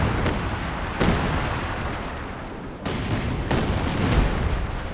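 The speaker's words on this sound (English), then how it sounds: "Lethal barrages." Artillery barrage in Company of Heroes 2, a loud, dense rumble of shelling with sharp impacts striking several times over a constant roar of explosions.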